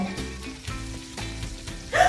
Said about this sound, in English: let's add some extra virgin olive oil to the pan